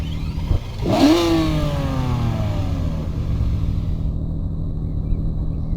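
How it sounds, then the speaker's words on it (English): A Koenigsegg Gemera-style inline-three engine in a Roblox driving game revs hard and climbs in pitch, then settles into a steady buzzing drone, loud and close, with no voices. "now instead we hear the roar of this 3-piston inline engine"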